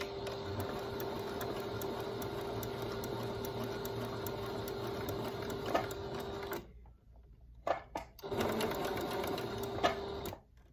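A sewing machine stitches a coiled rope hot pad with a steady, fast mechanical whir, cutting off partway through, then brief taps and a short restart of stitching.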